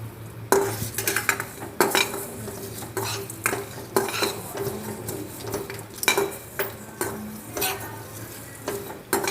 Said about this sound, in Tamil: இதெல்லாம் மிதமான சூட்டில் நம்ம வறுத்து எடுத்துக்கலாம்.